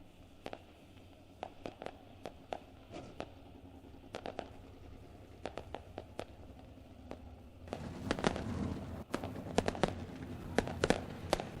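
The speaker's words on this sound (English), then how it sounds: "A big shout out to Lone Wolf Fireworks, lighting up the sky here every Friday night." Fireworks lighting up the sky over Ohsweken Speedway on a Friday race night: scattered distant pops and cracks, growing into a denser, louder crackling barrage near the end.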